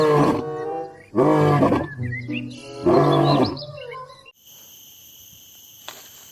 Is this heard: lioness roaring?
yes